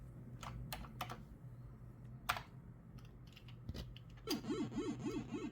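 Keys clack on a Commodore 65 computer keyboard in sparse, separate presses close up, and a warbling electronic tone wavers in toward the end.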